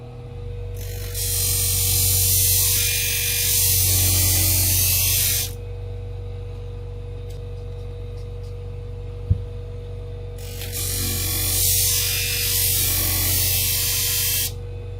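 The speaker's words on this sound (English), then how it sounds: "I turned the machine up faster." A sharpening machine running at high speed on Centrix salon thinning shears: two sustained harsh grinding passes under a constant motor hum, separated by a quieter hum-only gap with a single click.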